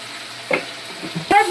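Chicken tangri pieces being stirred and sautéed in mustard oil with chili powder, a faint pan sizzle broken by a few short scraping stirs, no talking.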